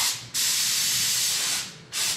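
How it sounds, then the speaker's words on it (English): Undercoating gun with a 360-degree spray head blasting rust-proofing oil inside a cleaned-out Jeep TJ frame: a loud, steady, close hiss of spray running for most of the clip, with a short pause before it and another near the end. "going to spray oil like that inside the frame"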